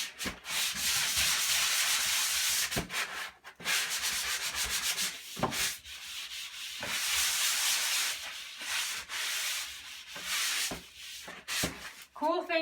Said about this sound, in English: So try not to oversand to where you're exposing the inner side of your drywall.